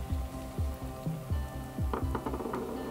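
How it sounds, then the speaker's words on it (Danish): Strawberries and sugar heat in a pot with soft, irregular sizzling and bubbling, punctuated by low knocks and clinks of stirring or the pot, steady and close with no talking. "Bring dem i kog, til væsken den kommer ud af dem."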